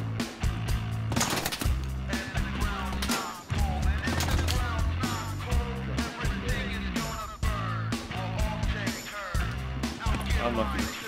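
Machine-gun fire rattles in rapid bursts in the video game Hell Let Loose, loud and dense with short pauses between volleys, mixed with other battlefield noise.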